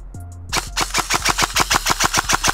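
An Arcturus AK12 PE airsoft electric rifle fires BBs in a fast, even string of about fifteen sharp mechanical cracks after a brief motor whir, close and loud with a crisp, snappy rhythm.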